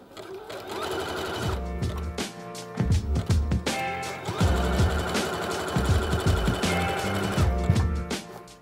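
A domestic sewing machine runs a zigzag stitch along leggings fabric in short bursts of rapid, close mechanical chatter, pausing and restarting several times before one longer steady run.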